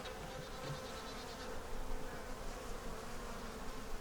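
Honey bees buzzing at an opened beehive being checked after a storm, a steady dense hum filling the whole stretch, close and continuous with a slight swell midway.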